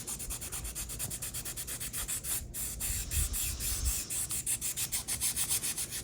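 A 3D printed model car body is wet sanded by hand, a soft, steady back-and-forth rubbing in even strokes, close and quiet with no talk.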